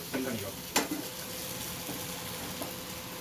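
Masala sautéing in a pan, a continuous faint sizzle with one sharp utensil knock and a few light scrapes, quiet and close, nobody speaking.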